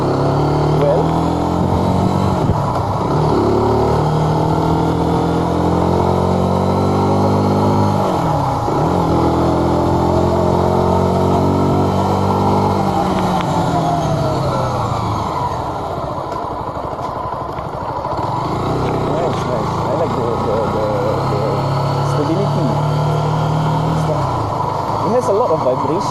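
A Zontes 155U motorcycle's single-cylinder engine while riding, loud and close, rising and falling through several rev sweeps and gear changes with a buzzy, vibrating note, easing briefly near the middle before pulling again.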